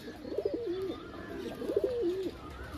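Pigeons at a market stall selling pairs of pigeons, two rounded cooing calls in quick succession, fairly close, over faint background noise with no talk.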